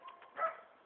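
A dog gives a short, faint whimpering yip, brief tonal cries that swell once near the middle, with no talking.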